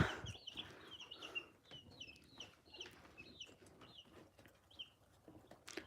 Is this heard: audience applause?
no